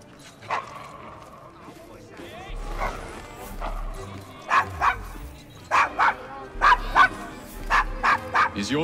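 A dog barks repeatedly in Assassin's Creed Syndicate, in the Victorian London district of Devil's Acre. The barks come in short clustered bursts that grow louder toward the end, with voices talking underneath.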